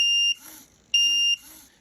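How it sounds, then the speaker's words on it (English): Electronic alarm going off, a loud piercing beep in two long bursts separated by short quiet gaps, each followed by a faint echoing tail. "we're going to see the alarm go off because the times are going to match"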